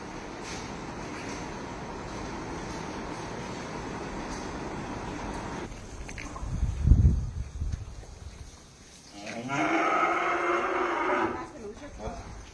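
Cows and calves at a cattle shelter moo, with one deep, loud low call standing out midway over steady background din, and voices heard throughout.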